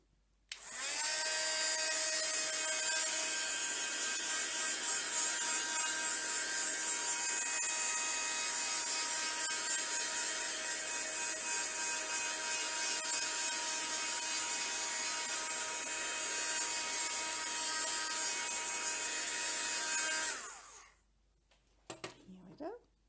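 A handheld dryer blows steadily on a watercolor painting, a loud, even whirring drone held for about twenty seconds before switching off, followed by a few faint clicks.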